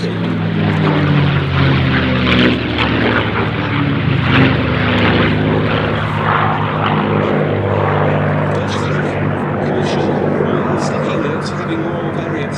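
P-51D Mustang propeller fighters flying at the Duxford Battle of Britain Airshow in 2018. A loud, sustained engine drone with a throbbing propeller tone plays throughout, with a voice talking over it.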